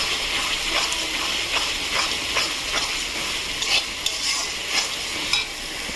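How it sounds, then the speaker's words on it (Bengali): Mutton sautéed and stirred in a pan, with continuous close sizzling and rhythmic scraping of the spoon through the meat, a steady wet frying texture and no talking. "দেখুন, এবার একটু কষাবো, ভালোভাবে কষাবো।"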